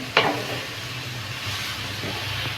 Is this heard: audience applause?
no